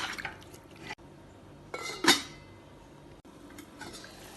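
Chicken is stirred with water in a clay pot on a stove, giving soft scraping and sloshing with one sharper clink partway through, close and fairly quiet, with no talking.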